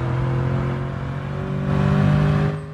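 A loud truck rumbles past a car with a steady low engine drone and whir that swells slightly, then fades as it goes by.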